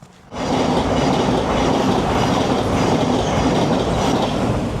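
A train rumbles past close by at a Cambridgeshire railway station, a loud continuous roar of wheels and carriages with faint rhythmic clatter, starting abruptly after a brief quiet moment.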